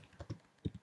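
A handful of quick keystrokes on a computer keyboard, soft and close, in two short bursts.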